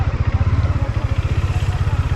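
A motorcycle engine runs close by with a steady low throbbing pulse, loud and continuous throughout with no voices over it.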